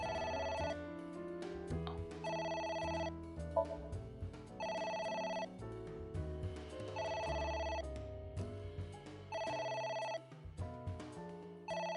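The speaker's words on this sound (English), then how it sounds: "It won't stop ringing." A video game telephone rings insistently, a repeating electronic bell in regular bursts with short pauses between, loud and close, continuing for the whole stretch without talk.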